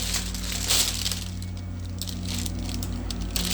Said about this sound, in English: excuse the noise because now let's do this shrink wrap